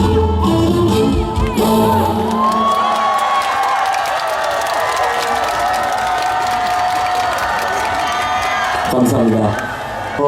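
A large audience at an outdoor festival concert claps and cheers loudly throughout, a steady dense roar of applause with shouts and whoops, while a singer's amplified voice carries on over the crowd.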